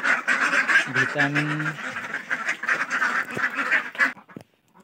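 Ducks quack repeatedly at close range in a dense, busy chorus that fades out near the end, with a brief low honk-like call partway through.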